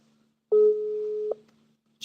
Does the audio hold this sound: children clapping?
no